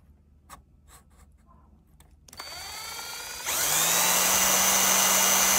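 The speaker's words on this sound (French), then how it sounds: "Alors ici, donc je vais percer là." Power drill boring into car interior trim while fitting a 9.6-inch Android/CarPlay screen, starting after a few soft handling taps and whining steadily, then rising to a louder, higher-pitched spin for the last couple of seconds.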